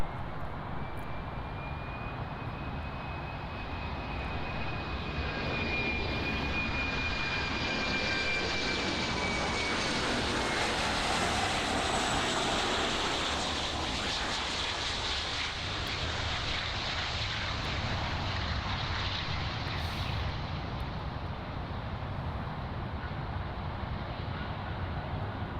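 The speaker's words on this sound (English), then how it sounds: "So our next flight is iAero Airways, classic Boeing 737, arriving from Camagüey." A classic Boeing 737 of iAero Airways arriving at Miami International Airport, its jet engine roar building to a loud peak mid-pass and then easing off, steady and continuous throughout with no talking.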